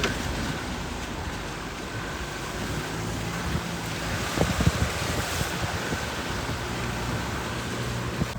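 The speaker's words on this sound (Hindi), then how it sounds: "यहाँ पे फ्लो देखो कितनी तेज है।" A fast-flowing river runs through dense monsoon jungle near Corbett, making a loud, steady rushing roar mixed with gusty wind buffeting the microphone throughout.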